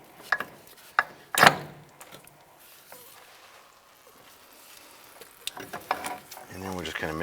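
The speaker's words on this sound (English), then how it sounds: "I'm going to go ahead and pull out the CV axle out of the transmission the rest of the way." A CV axle is pulled from the transmission of a 2006-2011 Cadillac DTS, giving sparse close metallic clunks and scrapes, with one loud knock early on and a rattling, grinding pull near the end.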